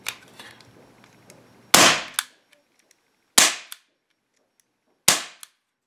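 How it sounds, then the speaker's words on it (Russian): Three sharp, loud shots from a Gletcher JRH 941 air pistol, evenly spaced a couple of seconds apart, each with a short echoing tail, after some faint handling noise. "На самом деле очень громко стреляет по сравнению с другими."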